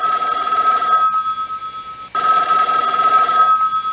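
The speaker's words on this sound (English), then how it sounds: "the hardest thing in the world to do is ignore a ringing telephone" Payphone ringing out in the Mojave Desert, two loud, bright electronic bell rings separated by a brief pause, close and clear with nothing else over them.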